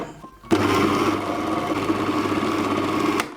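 A food processor blends a pork and grated coconut paste for Thai fish cakes. It starts abruptly with a loud, steady motor whir and grinding churn that holds evenly to the end, with no talk.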